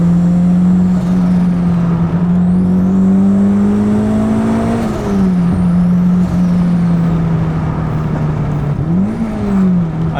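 Turbocharged engine swapped into a Mazda RX-8, pulling hard under acceleration with a strong steady drone, rising in pitch then dipping and climbing again between shifts, loud and close throughout.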